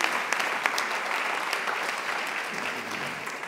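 Audience applause at a jota singing competition in Tudela, a steady wash of clapping from many hands that holds evenly throughout, moderately distant and without voices on top.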